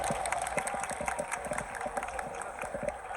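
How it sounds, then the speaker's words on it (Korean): An audience at a cosplay contest gives sustained applause, steady rapid clapping from a moderately distant crowd with no one speaking over it. "박수 보내주세요"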